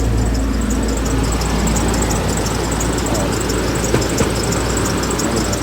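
A 1997 Ford F250 tow truck idles through a 2.5-inch pipe and Flowmaster 40 series muffler, giving a steady, low, fairly quiet rumble that holds constant throughout.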